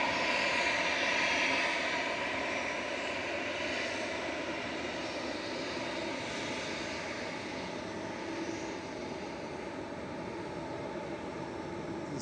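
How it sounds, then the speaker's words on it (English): An EasyJet Airbus A320-200 airliner passes at Manchester Airport, a steady broad jet engine roar that fades slowly as it moves away, with no talk. "This is EasyJet to Palma de Mallorca, OEIVW, A320-200, flight 7270."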